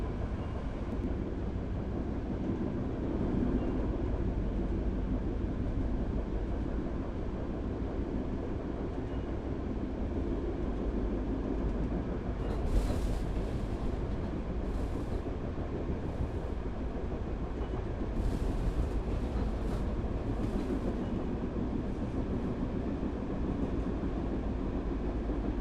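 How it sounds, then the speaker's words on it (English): Long Tokyo commuter trains rumble along the rails in the game Train Sim World 4, a steady loud rolling drone with faint clacks and brief higher hisses, no voices over it. "They're some pretty damn long trains too, the Tokyo trains."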